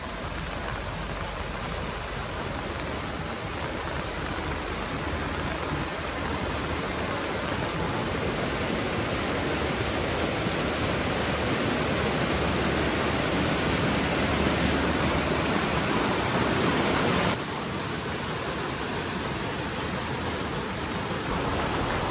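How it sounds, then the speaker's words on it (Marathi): Savatsada waterfall near Chiplun in the Konkan, swollen by heavy monsoon rain, roars as a dense, steady broadband rush of falling water that stays loud and unbroken throughout, dipping only slightly in level near the end. "धबधबा बघा केवढा, म्हणजे पाण्याचा प्रेशर बघा केवढा दिसतो"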